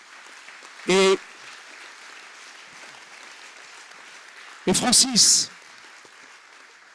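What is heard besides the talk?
audience applause at award ceremony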